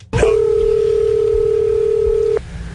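A telephone handset picks up into a steady, loud dial tone that holds for about two seconds before cutting off, preceded by a brief click, as a prank phone call begins on a morning radio show.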